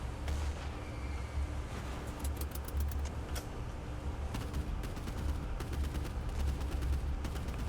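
Mortar and machine gun fire in the Boat Crew video game, a dense continuous barrage of distant thuds and rumbles over an engine-like drone, with quick rattling bursts of shots and scattered sharp cracks throughout.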